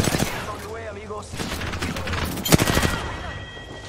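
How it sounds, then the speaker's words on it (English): Bursts of enemy gunfire in a shooter video game, rapid automatic volleys and sharp single cracks that come and go, mixed with game sounds and voices. "The enemies are shooting at me"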